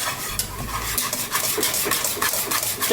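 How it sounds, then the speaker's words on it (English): Food being stirred in a pot for mac and cheese, with steady scraping and rubbing strokes running continuously at close range and no talk. "Just keep on stirring it."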